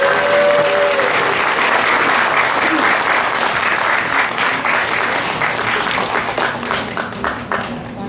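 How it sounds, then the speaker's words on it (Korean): Loud, sustained crowd applause for youth performers of a card section at a peace gathering, with a brief voice and tone near the start, then steady clapping tapering off toward the end. "열심히 준비한 청년들에게 큰 박수 부탁드립니다"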